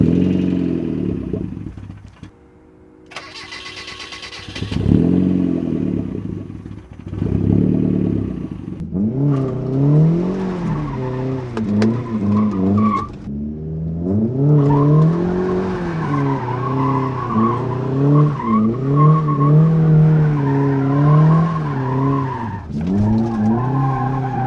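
A racecar engine running on straight Sea-Foam cranks and starts, then revs hard and roughly close by, its pitch rising and falling in uneven surges that hold steady and loud for about twenty seconds, with no talk.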